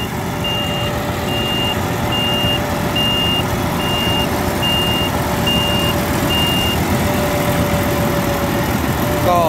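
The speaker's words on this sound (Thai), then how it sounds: "ก็เป็นรถเกี่ยวข้าวของยันมานะครับ" A Yanmar YH6115 combine rice harvester runs with a steady engine drone while a regular reversing beep repeats throughout, close and loud, with no talk.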